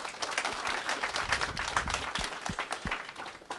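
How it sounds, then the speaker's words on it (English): An audience applauds to welcome an alumni panel, a steady patter of many hands clapping indoors, fairly close and continuous, with a few sharper individual claps standing out. "let's give a nice round of applause and welcome them"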